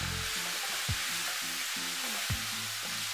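Sichuan peppercorns and spices sizzle steadily as they fry in a pan, with scraping stir strokes sounding twice over the continuous crackle.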